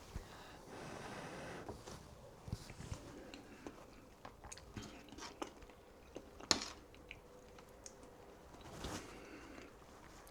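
Someone eats hot, freshly cooked goulash: quiet, close chewing and biting with occasional sharper crunches and soft breaths in an otherwise hushed room.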